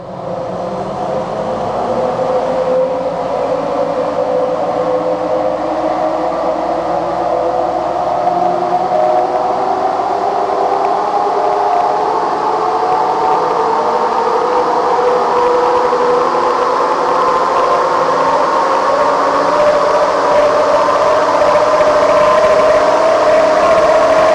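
A remapped Jeep Wrangler 2.8 CRD diesel engine runs loud and close on a dyno, its drone steadily rising in pitch as the revs climb under load across a long sweep, with no speech over it.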